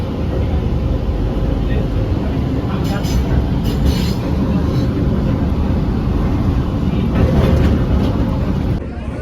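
A train rolls into a tunnel, a loud continuous roar of wheels and rushing air holding steady throughout, with faint voices underneath.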